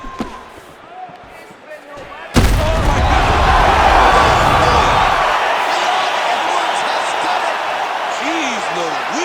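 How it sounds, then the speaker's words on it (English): Arena crowd in the video game EA Sports UFC 5 erupts into a loud, sustained roar after a quiet opening, holding steady at high intensity through the rest of the clip. "The crowd's going crazy because they appreciate high-level mixed martial arts"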